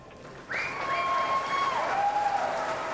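Applause from the crowd at a 9-ball pool match starts abruptly and holds steady, mixed with a few whistles.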